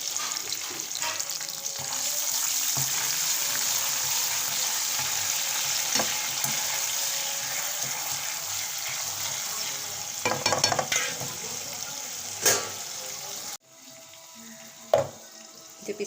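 Fenugreek seeds, nigella and mustard seeds fry in a hot pan with chillies, garlic and curry leaves, a continuous loud sizzle with stirring scrapes and a few sharp clanks before it quiets near the end.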